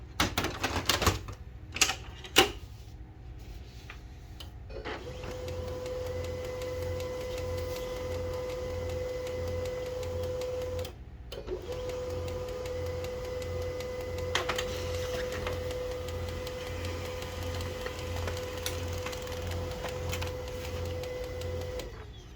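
A Canon LBP 2900 laser printer pulls in a sheet of paper, giving a steady mechanical whir with a faint rhythmic pulsing that runs for most of the clip after a few sharp clicks at the start. No voices.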